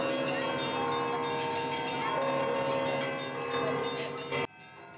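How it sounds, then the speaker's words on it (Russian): Church bells ring loudly and continuously beside the Church of St. John of Kronstadt during an Orthodox procession of the cross in Nizhnekamsk, with a steady metallic clangour that cuts off abruptly near the end. "Под колокольный звон колонна движется вдоль храма святого праведного Иоанна Кронштадтского."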